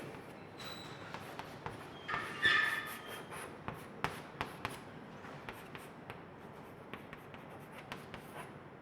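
Chalk or marker scratches and taps on a board during a chemistry lecture on amines, coming as a run of short, quiet strokes and clicks at uneven intervals, with no voice over them.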